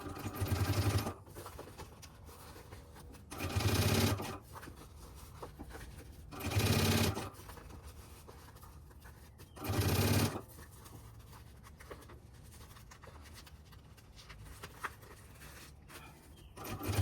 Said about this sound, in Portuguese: E vamos fazer um pesponto de acabamento aqui.